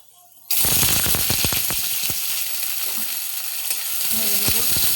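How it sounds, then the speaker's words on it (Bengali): Chopped onion dropped into hot oil bursts into a loud, steady sizzle, with crackling pops and the scrape of stirring close by. "তেলের মধ্যে দিয়ে দেব কুচিয়ে রাখা পেঁয়াজ"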